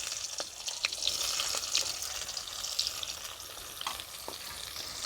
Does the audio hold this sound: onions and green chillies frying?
yes